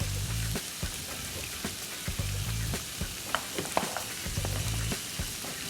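Garlic sizzles in the centre of a frying pan with a steady close crackle, with a low thudding rhythm recurring about every two seconds beneath it and no voices.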